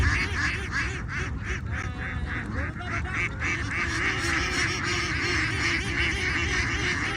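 A flock of farm ducks quacking loudly and continuously at Chalan Beel, Bangladesh, a dense overlapping chorus of honking calls close to the listener with no pauses.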